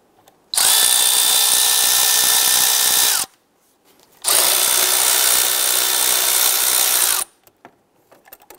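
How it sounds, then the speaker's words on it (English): An 8 mm socket on a power driver loosens hose clamps on a 2008-2013 Nissan Rogue's intake tube, heard as two steady whirring bursts of about three seconds each, close and loud, with a short pause between them. "Use our 8 millimeter socket to loosen the hose clamps on either end of the tube here."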